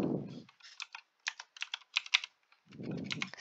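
Short runs of crisp clicking keystrokes on a computer keyboard, coming in quick irregular clusters between brief pauses, with a soft rustle of handling at the start and end.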